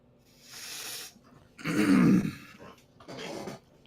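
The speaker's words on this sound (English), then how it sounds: "clearing his throat a little bit" A person clears their throat three times in rough, raspy bursts, the middle one loudest and deepest, with short pauses between.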